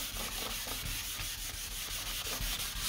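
Wet sanding 2K automotive primer along a car body line by hand makes a steady, close, rhythmic scrubbing rasp with repeated back-and-forth strokes, heard alone.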